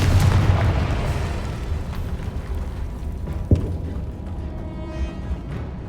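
In the video game Hogwarts Legacy, a Confringo explosion spell goes off as a heavy, rumbling boom that fades out, followed by a sharp crack and a lingering low roar.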